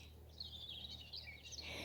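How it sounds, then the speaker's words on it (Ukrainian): Birds sing on a quiet early summer morning in a vegetable garden, faint high chirping phrases repeating over soft background hum, with no one speaking. "Як гарно співають пташечки."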